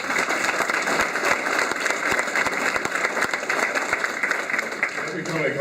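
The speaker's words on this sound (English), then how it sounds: "So I think, John, you need a round of applause for that." Audience at an athletic hall of fame induction ceremony applauds inductee John Gustafson, with continuous crisp clapping and some distinct individual claps, with voices faintly mixed in.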